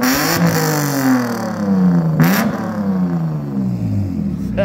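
A BMW car engine revs loudly up close in repeated climbing and falling surges, with a harmonic whine and rumble throughout and a sharp blip partway through.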